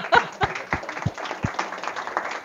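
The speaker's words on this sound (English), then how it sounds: "Would you please clap your hands for her?" Applause from a crowd: a few sharp, loud claps up front, then lighter scattered clapping carrying on unevenly.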